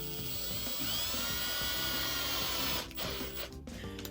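A drill threading a rod end onto an Element RC Gatekeeper rear diff part with a steady high-pitched whirring whine, then stopping and starting in short bursts near the end.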